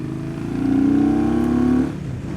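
A 2020 Indian Scout Bobber Twenty motorcycle engine rises in pitch as it accelerates, holding a steady, fairly close drone for about a second before the revs drop away.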